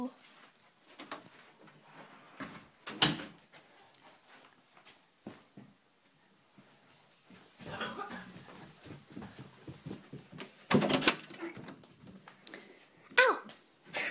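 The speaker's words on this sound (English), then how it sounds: "Shut my door." A door is shut indoors amid rustling and handling noise, with several sharp knocks and thuds spaced across the stretch, the loudest near the middle and toward the end.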